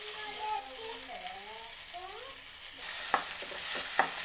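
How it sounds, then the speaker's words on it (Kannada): Chopped onions and green chillies fry in oil with a steady hiss; a faint voice-like tone drifts underneath early on, then stirring clicks and scrapes sharpen the sizzle toward the end. "ಈರುಳ್ಳಿ ಲೈಟಾಗಿ ಫ್ರೈ ಆದರೆ ಸಾಕು."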